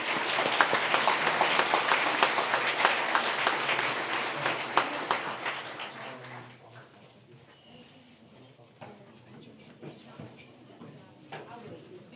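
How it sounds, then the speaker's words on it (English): Audience applause at an annual public service award ceremony fills the first six seconds, dense and loud, then fades to scattered claps and room noise. "let's give them one more round of applause."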